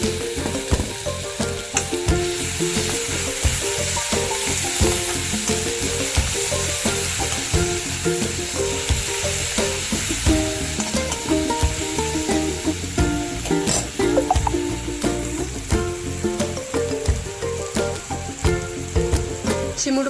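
Ground garlic and green chillies sizzle in hot oil for vada pav, a loud continuous close frying hiss with frequent scraping and stirring clicks from a spoon against the pan throughout.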